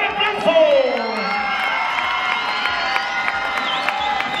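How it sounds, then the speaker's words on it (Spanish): Audience at a shouting contest erupts in applause and cheering for a contestant, loud crowd whoops and yells over steady clapping, with one rising shout near the start. "pero aquí está, ¡el aplauso!"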